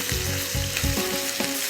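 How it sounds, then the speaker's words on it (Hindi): Minced meat fries in a pan for keema-based kofta, a steady close sizzle with a few stirring scrapes and clatters, no voices over it. "और इसको भूनेंगे कुछ 5-7 मिनट के लिए, ताकि कीमे में जो कच्चापन है,"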